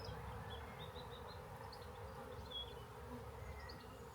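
A honeybee swarm pours into a bait hive, making a dense, steady buzzing hum that stays loud and close throughout, with no voices.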